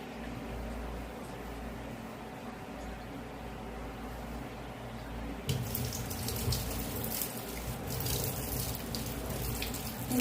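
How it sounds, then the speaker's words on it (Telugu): Tap water runs steadily while fish is washed and cleaned with a knife, the flow jumping to a louder, brighter splashing stream about halfway through, near and without talk. "ఇలాగా చాక్తో ఇలా వాష్ చేసుకుంటాను."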